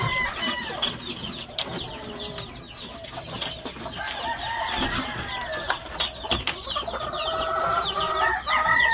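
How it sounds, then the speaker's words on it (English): A round head hen, a black game-fowl chicken on a farm, clucks repeatedly at close range among other chickens and roosters calling around the yard, with occasional crowing in the background. "so this is my round head hen right here"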